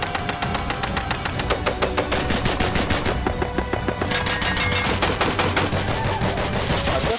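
Rapid full-automatic rifle gunfire at an outdoor shooting range, a fast continuous stream of loud, closely spaced shots lasting several seconds with barely a pause.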